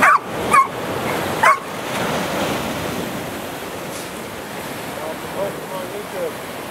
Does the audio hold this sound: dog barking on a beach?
yes